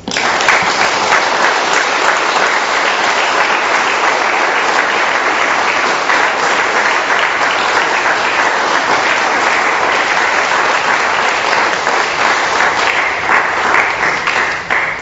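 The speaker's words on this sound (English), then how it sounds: "Just another quick round of applause." Sustained audience applause fills an Alcoholics Anonymous meeting room in Doylestown, Pennsylvania, a dense steady wash of many hands clapping at even loudness throughout with no talk over it.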